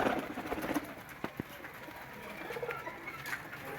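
A Sialkoti flying pigeon gives soft, low cooing calls against a quiet background, with a few sharp clicks and faint rustling nearby.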